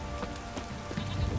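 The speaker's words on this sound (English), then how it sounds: "This downpour's a bastard" Heavy rain downpour in The Witcher 3: Wild Hunt, a dense, steady patter of drops hitting surfaces, continuous and fairly close, with no voices.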